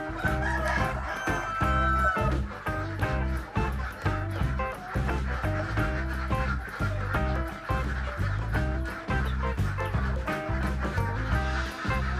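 A KUB-2 village chicken rooster crows a few times, its call riding over a loud, steady rhythmic music track that dominates throughout.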